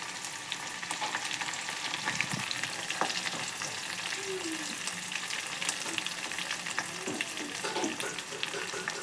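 Onion, green chilli and curry leaves frying in oil for a capsicum curry produce a dense, crackling sizzle throughout, with occasional stirring scrapes.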